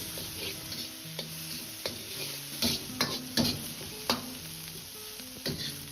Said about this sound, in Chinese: 接着先放入控干水分的辣椒煸炒，炒出辣椒里边多余的水分，炒出香味